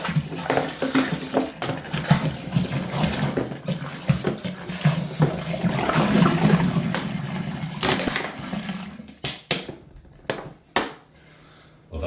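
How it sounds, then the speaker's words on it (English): Cold water is dumped from a height into a home-brew beer kit vessel, a continuous close splashing pour that tails off into a few bumps and drips, with some talk over it. "it's no drama in dumping the rest of this water in cold. Also to help oxygenate it, drop it in at a height as well"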